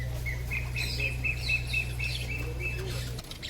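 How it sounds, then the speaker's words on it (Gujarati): Small caged birds of different kinds chirp in quick, repeated tweets over a constant low hum, the calls close and lively throughout. "આ નાનું એવું પાંજરું છે જેમાં નાના એવા પક્ષીઓ છે અલગ પ્રકારના।"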